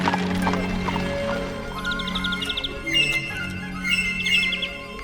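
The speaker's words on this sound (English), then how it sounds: "Listen to that flute line." A flute line from a Sweeney Todd song plays amid orchestral accompaniment, with bright, bird-like trills and runs over sustained lower tones.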